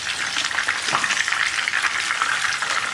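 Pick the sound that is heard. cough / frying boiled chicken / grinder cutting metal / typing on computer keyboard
frying boiled chicken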